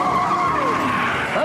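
A van in an animated movie speeds off with tires skidding, a loud sustained screech with a rising and falling squeal over engine roar.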